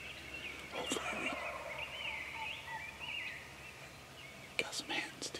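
Wild turkeys calling and clucking at a distance in Michigan, a steady chatter of hens, with a faint whisper nearby and a few soft rustles at the end.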